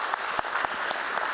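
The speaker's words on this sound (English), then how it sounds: "Let's begin this beautiful morning with a big round of applause" Audience applause at a stock exchange listing ceremony, a steady, fairly soft burst of many people clapping with no break.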